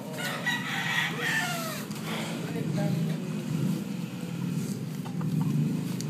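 Farm hens and a rooster, including imported crossbreed breeding stock, cluck and call nearby while people talk over them, with a low steady background rumble.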